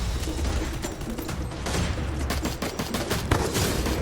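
Rapid gunfire from the Free Fire video game in FPS mode, a dense continuous fusillade of overlapping shots and bursts, loud and unbroken over a noisy battle backdrop.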